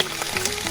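Beans porridge mixture with onions frying in a pot, a brief close steady sizzle and crackle.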